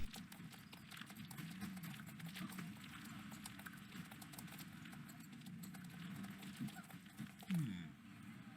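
Horse hooves clip-clop in a steady rhythm as a horse is ridden in the video game Star Stable, fairly quiet and continuous, with a brief louder sound near the end.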